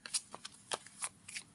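Playing cards are shuffled in a quick run of crisp riffling flicks and snaps, close and fairly quiet, with no speech.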